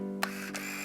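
A film camera's automatic shutter clicks twice in a quiet indoor room full of houseplants, two crisp mechanical snaps spaced about a third of a second apart over a low steady hum.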